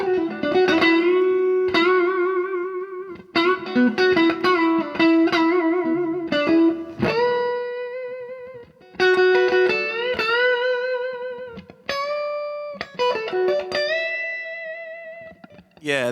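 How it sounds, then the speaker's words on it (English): Electric guitar played through a Strymon Flint reverb pedal, a loud solo-style lead line of sustained and picked notes with a lush, lingering reverb tail, heard alone without talk. "Which may be a really good reverb to like solo with."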